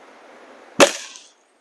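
A single sharp shot from a Diana 34 air rifle fitted with a Macarri tune kit, a loud close crack with a brief fading tail, then silence.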